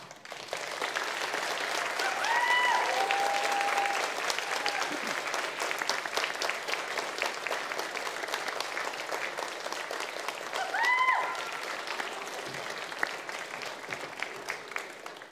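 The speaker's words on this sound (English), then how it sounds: "face your loved ones and give them a big clap and cheer" Graduates at a graduation ceremony applaud and cheer their families, producing a sustained crowd of clapping that fills the hall. Brief whoops rise over it, and it fades only slightly toward the end.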